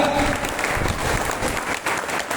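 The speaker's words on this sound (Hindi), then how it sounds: "सब आदमी ताली बजाए पीछे से" Audience clapping steadily throughout, a dense continuous patter of many hands at close range, with no voices standing out.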